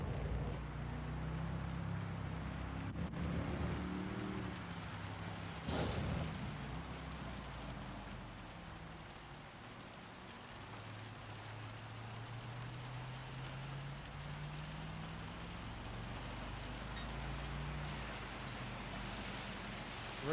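Heavy rain in the racing game Gran Turismo 7 makes a steady, soft hiss, with a car engine droning beneath it that rises and falls in pitch. The sound is faint and continuous, and no one speaks.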